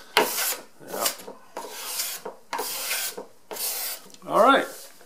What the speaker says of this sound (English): you can actually hear the difference between a sharp scraper and a dull one. The sharp scraper actually sounds like it's working.